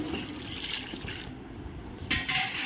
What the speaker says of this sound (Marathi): यात थोडं पाणी टाकणार आहे.